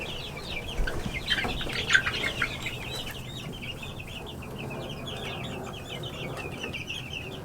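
Several chickens cluck and murmur softly, huddled in a coop beneath the nesting boxes, a few louder calls near the start, then a steady low chatter.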